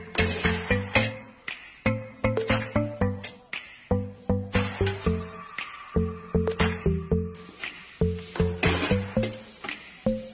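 A utensil is stirred through Kerala-style karimeen (pearl spot fish) mappas masala with crushed pepper in a pan, giving dense, rhythmic scraping and clinking strokes close up that keep going without a break. A soft sizzle runs underneath.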